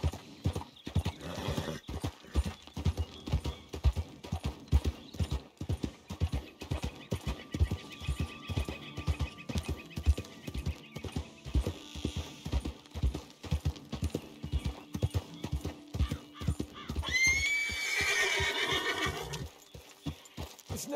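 Horse hooves clip-clop in a steady walking rhythm through most of the scene in the video game Red Dead Redemption 2, close and clear, ending with a loud drawn-out neigh near the end.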